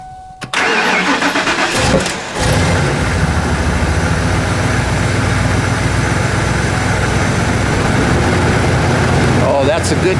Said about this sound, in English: let's see if this will start up